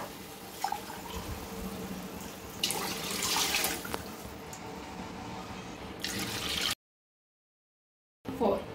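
Water poured from a glass into a pot of rice for homemade mandi biryani, several splashing pours with bursts and pauses, close by, then a short silence.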